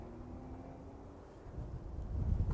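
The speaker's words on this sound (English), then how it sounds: "Wind picking up again." Wind gusting at an airport apron, a soft low rumbling rush that swells louder toward the end, with no voices.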